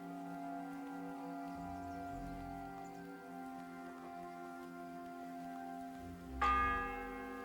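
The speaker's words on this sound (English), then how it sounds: "The sixth bell. Half the time is up." A church bell tolls in Kingdom Come Deliverance II amid rain, its long humming resonance lingering throughout, then a fresh bright strike rings out near the end and decays slowly.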